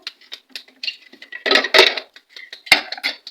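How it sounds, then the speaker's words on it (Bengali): Goat mutton curry is tipped out of a cooking pot into another vessel, the pot and serving spoon clattering and scraping in a burst of irregular metallic clinks and knocks, loudest midway, with no talking. "এবার মাংসটা ঢেলে নেবো"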